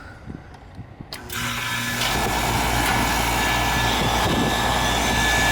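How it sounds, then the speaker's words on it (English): Air conditioner compressor and condenser fan kicking on together after a few quiet clicks, then a loud steady roar and hum that keeps running, close by, with no speech. "I'm gonna press the contactor in, see if both the compressor and the fan run."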